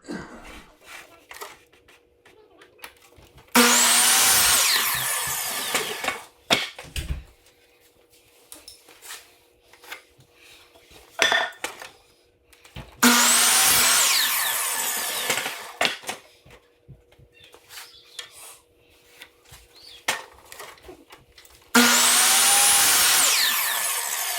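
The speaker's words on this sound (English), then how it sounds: "using the chop saw here, measuring 2-foot sections, and then I'm going to cut them" A chop saw whines through wood in three loud cuts, each a few seconds long, separated by quiet stretches with clattering and handling noises.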